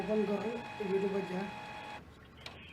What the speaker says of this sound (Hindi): ये नॉर्मल प्रिंटर की आवाज़ है